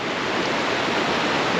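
A creek at a Sierra campsite flowing in a steady, broadband rush of water, close and constant for under two seconds, with no voices over it.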